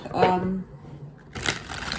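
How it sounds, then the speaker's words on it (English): A tarot card deck being shuffled, a short riffle of card flicks after a brief pause, close and moderately loud. "So let me do 5 shuffles"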